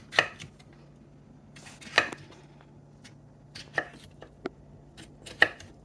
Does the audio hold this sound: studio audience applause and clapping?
no